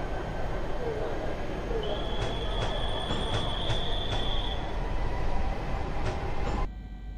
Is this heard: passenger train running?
yes